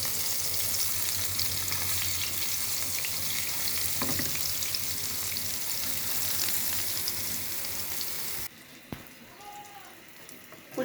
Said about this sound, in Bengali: এবার ফ্রাই প্যানে তেল দিয়েছি, এখন দিয়ে দিলাম বেগুন চাক ভাজি।